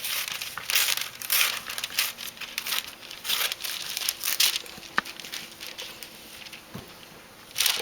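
A sheet of wax paper handled and crinkled at close range, producing repeated crisp rustling and crackling bursts in an irregular rhythm, with no speech.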